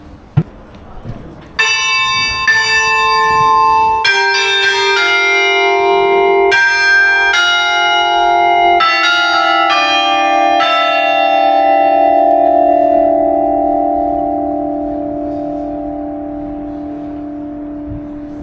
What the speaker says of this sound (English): And then you got the bells up there.